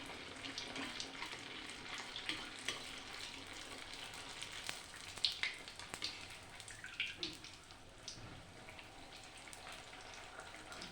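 Malpua batter hits hot oil and fries with a soft, steady sizzle and scattered crackling pops, faint and close, with no talking.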